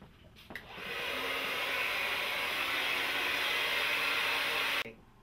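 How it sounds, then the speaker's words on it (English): Hair dryer blowing the top of the hair, switching on into a steady, close airy roar that holds for several seconds before cutting off abruptly. "you want to use the same method to blow dry the top of the hair as you blow dried"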